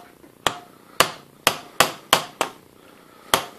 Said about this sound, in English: A screwdriver to slip out when it's being driven in with a hammer.